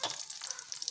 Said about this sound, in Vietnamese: các nguyên liệu được thái nhỏ ra, trộn đều lên, sau đó cho vào rán lửa nhỏ